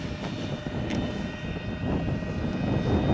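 RC A-10 model jet with twin 70mm ducted fans flying with its flaps fully down, giving a steady whining roar that holds throughout at moderate distance, with no talk.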